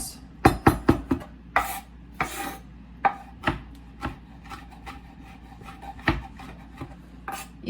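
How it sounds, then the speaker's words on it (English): A knife chops fresh herbs on a cutting board, close crisp thuds in quick bursts and irregular single strikes, with soft scraping between them and no talking. "just kind of chop up my herbs"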